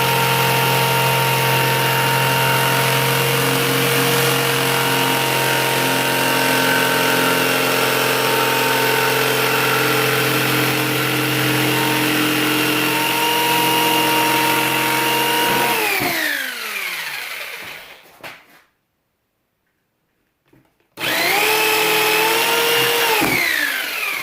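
A power tool's blade cuts PVC for a simple teardrop camper door, a loud steady whining drone that winds down, cuts out briefly, then starts up and runs again, with no talk.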